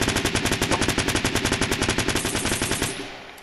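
Rapid automatic gunfire from a video game rattles out in a fast, even burst of loud close shots lasting nearly three seconds, then stops abruptly.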